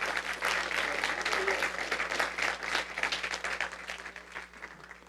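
Congregation applauding God during a Spanish-language church service, a dense, steady wash of many hands clapping that fills the room for several seconds before easing slightly at the end.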